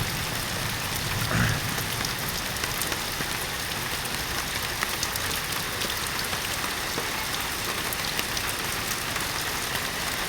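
Rain falls continuously in an even, dense hiss, with scattered drops pattering close by.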